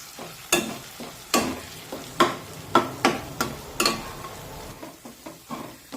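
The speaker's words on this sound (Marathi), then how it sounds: "हे बारीक करून घेतलेलं खोबऱ्याचं वाटण टाकूया आणि 2 ते 3 मिनिटे मध्यम आचेवर छानपैकी परतून घेऊया" Ground coconut paste sautés in oil over medium heat for a mixed-vegetable bhaji, with a steady soft sizzle broken by repeated sharp scrapes and taps of a spoon stirring in the pan, close and alone.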